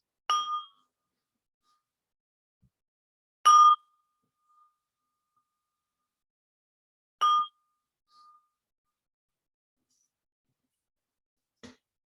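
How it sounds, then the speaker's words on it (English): A meditation bell rings three times, each a clear bright strike spaced a few seconds apart that fades quickly into silence, followed by a faint short tap near the end. "I like to ring 3 bells to help us center ourselves."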